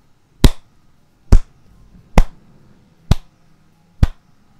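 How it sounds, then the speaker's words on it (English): Slow hand clapping: five sharp, evenly spaced claps about a second apart, close and crisp against near silence, with no talking. "It's a slow clap."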